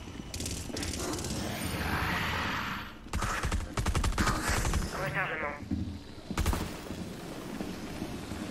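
Gunfire in the video game Rainbow Six Extraction, rapid bursts of shots in quick clusters, close and loud, with game sounds and a voice mixed in between the volleys.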